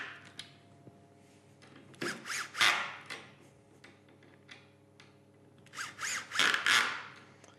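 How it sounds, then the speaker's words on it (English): A cordless screwdriver with torque set drives screws into a hinge base drilled with the 32 mm system in a workshop, giving two pairs of short whirring bursts with quiet handling between them. "Akkuschrauber"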